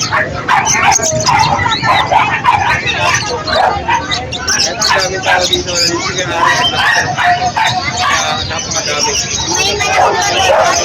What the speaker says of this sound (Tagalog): May mga aso rin dito mga par.